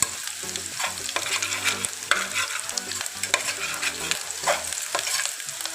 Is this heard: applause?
no